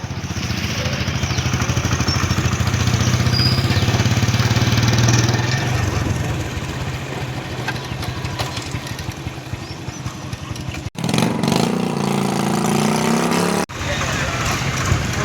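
A motorcycle engine runs on a ride toward a petrol pump, a loud continuous droning rumble throughout with shifting pitch as it idles and revs, briefly cutting out twice near the end.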